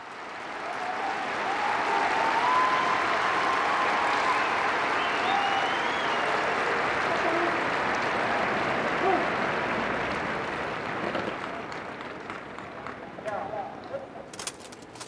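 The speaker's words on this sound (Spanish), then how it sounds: "El aplauso de la multitud en fiesta." A festive crowd applauds steadily at an Easter Urbi et Orbi blessing with Pope Francis, dense sustained clapping over a wide open space, faint scattered cries and distant sounds mixed in, thinning out toward the end.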